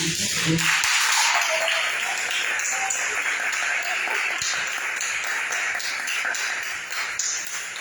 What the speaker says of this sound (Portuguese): dá uma salva de palmas para Deus.